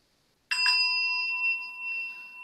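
A single meditation bell struck once rings out clearly, its bright tone sustaining and slowly fading over a couple of seconds with no talking.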